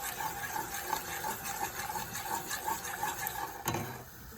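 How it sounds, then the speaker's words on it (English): Ketchup and raspberry chipotle sauce are whisked together in a bowl in a quick, rhythmic series of close whisk strokes, ending with a sharp clink near the finish. "We're gonna whisk that all in."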